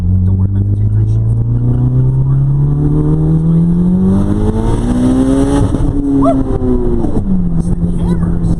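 A 1992 Mitsubishi Eclipse GSX turbo pulls hard, its engine note climbing steadily and loud from inside the car, dipping at a shift before rising again, with voices partly under the roar.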